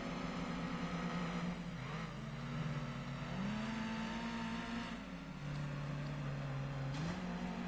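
Toyota Celica racing in Gran Turismo 2, a steady droning engine note rising and dropping through gear changes, heard alone at moderate level.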